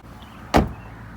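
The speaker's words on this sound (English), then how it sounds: "Hold on, y'all, let me shut this door." A car door swung shut once with a single solid thud, close by, against quiet background hum, with no talking.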